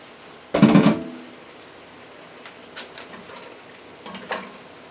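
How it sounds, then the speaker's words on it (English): Cheese ravioli dropped into hot simmering pasta sauce with beef and roasted red pepper, giving one loud wet sizzling splash followed by soft bubbling and a few faint stirring sizzles. "Okay, so our sauce is hot. Let's put our ravioli in."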